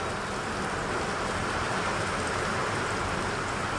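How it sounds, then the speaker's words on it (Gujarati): Heavy rain pours down with strong wind in a village setting, a dense, unbroken roar that stays loud and even throughout. "અંધાધાર વરસાદ ચાલુ છે ધોમ"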